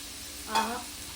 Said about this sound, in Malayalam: കുറച്ച് വെള്ളം എടുക്കുക, ജസ്റ്റ് ഒന്ന് തളിച്ചു കൊടുക്കുക